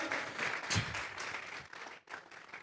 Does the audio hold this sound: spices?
no